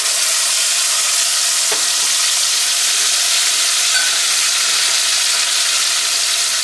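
Cumin seed, asafetida, bay leaf and tomato puree sizzle steadily in a hot pan, a close, continuous hiss with a faint scrape of stirring, and no voices.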